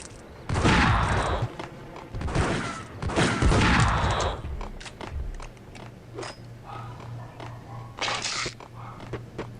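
Shotgun blasts from the video game Max Payne, a few loud booming shots in the first half, then quieter thuds and footsteps over a low steady hum.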